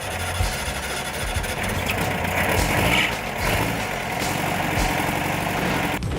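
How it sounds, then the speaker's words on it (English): A custom street-rod truck at the 2012 Bug A Rama car show idles with a steady, close, low rumble and slight vibration, running evenly throughout with no talking. "Can we hear this bad boy?"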